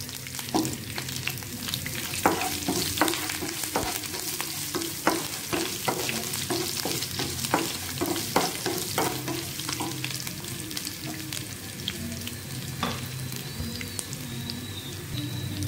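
Curry leaves and crushed garlic cloves frying in hot oil in a pan, a dense continuous crackle like light rain with frequent quick stirring scrapes, close and loud, no talking.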